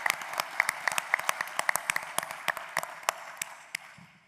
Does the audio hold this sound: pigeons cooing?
no